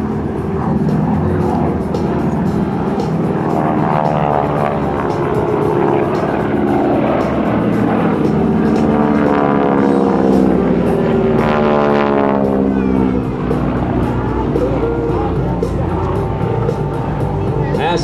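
GEICO Skytypers propeller aircraft fly past at a military open house airshow, a loud continuous droning roar with rising and falling pitch throughout, while an announcer talks over a public address system.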